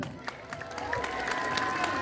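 Audience applause for dance teachers at an International Dance Day event, brief and moderately loud, with rising clapping, a few cheers and faint voices mixed in.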